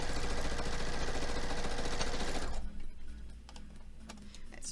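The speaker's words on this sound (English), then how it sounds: "let's do some sewing" Sewing machine stitching quilt block pieces runs steadily and close for about two and a half seconds, a dense rapid mechanical chatter, then stops, leaving a quiet room with a few faint handling sounds.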